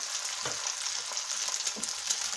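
Egg frying in oil in a pan, a steady close sizzle with a few soft crackles and pops and no voices.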